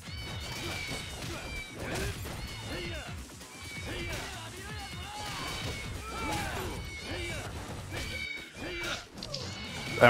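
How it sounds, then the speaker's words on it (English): A cat meows repeatedly over game sounds of crashes and thwacks during a Yakuza 0 brawl, with a voice talking throughout. "I'm so distracted by the meowing."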